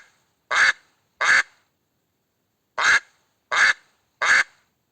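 A duck gives five short, sharp quacks up close in two groups, two and then three, with silence in between.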